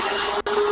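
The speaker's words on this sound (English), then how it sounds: "Ah, great. Vacuum." A vacuum cleaner in the video game Garry's Mod roars steadily with a strong whine, briefly cut off mid-way.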